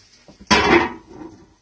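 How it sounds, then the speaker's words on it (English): A single metallic clatter as a lid drops onto a frying pan of hash browns, followed by a brief ringing rattle that fades quickly. "That's my lid to my frying pan."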